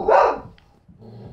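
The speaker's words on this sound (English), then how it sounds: "Oh, I think the dog can hear me." A dog in the video game PUBG on Xbox One barks once, a single loud close bark, followed by faint low game ambience.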